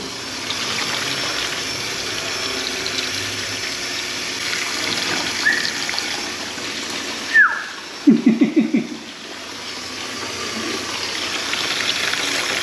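Running water from a tap fills a basin to soak food and wash out sand, a continuous close hiss with brief clattering knocks near the end.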